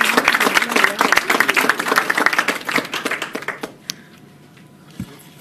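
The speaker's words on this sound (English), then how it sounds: "Let's give her a round of applause." A small gathering at a press conference claps in a burst of applause, lively and close, then thins out to a few scattered claps before fading to quiet.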